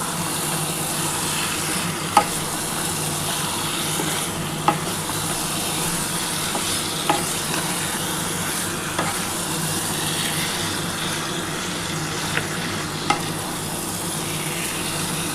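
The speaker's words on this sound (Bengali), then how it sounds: "বন্ধুরা দেখো মশলাটা কিন্তু খুব ভালোভাবে কিন্তু আমার কষানো হচ্ছে।" Chicken and spices are sautéed and stirred in a pan for a spicy chicken and potato curry, a loud, steady close sizzle broken by periodic sharp scrapes and taps of the spoon against the pan.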